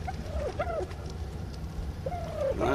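Pelagornis, a large tameable prehistoric seabird creature in the ARK survival game, giving a few hoarse, swooping calls in pairs, moderately near, over a steady low ambient rumble.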